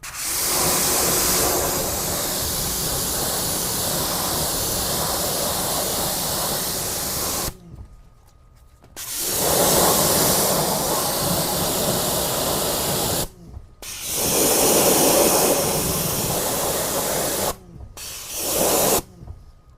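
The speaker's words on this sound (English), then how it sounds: "I'm gonna come with my white tip from a few inches away, and I'm just gonna kind of rinse everything off" A pressure washer with a white tip nozzle rinses car wheels from a few inches away, a loud steady hissing spray cut by short pauses where the trigger is released.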